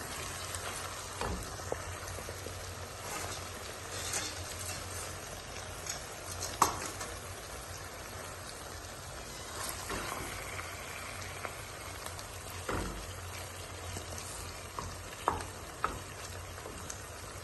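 Ginger and garlic frying in a pan for palak paneer give off a steady, even sizzle and crackle throughout, with a few faint clinks of a utensil now and then.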